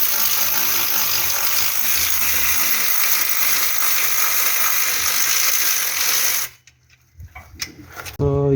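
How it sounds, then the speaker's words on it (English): A ratchet tightens the torque converter bolt on a 2016 Honda HR-V transmission, a loud, close run of rapid clicking that stops abruptly, followed by a brief quiet gap and a few more mechanical knocks. "So we're going to tight the torque converter bolt."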